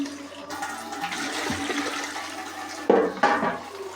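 Water poured into a pressure cooker holding beef trotters for paya, a steady gushing pour that runs for several seconds, with a couple of louder sloshing splashes near the end and no talk.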